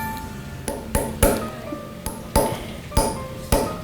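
A hammer strikes a metal punch into leather for carving souvenir leather craftwork, about eight sharp ringing taps at an uneven, unhurried pace, close and clear with a metallic ping after each blow.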